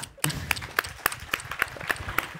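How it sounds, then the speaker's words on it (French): Conference audience at a talk on cats applauds with a steady run of fairly soft, sharp claps, moderately distant and evenly spaced, with no voices over it. "je propose qu'on vous applaudisse"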